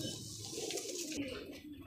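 Madrasi pigeons at a loft give soft, low, brief coos, faint and close.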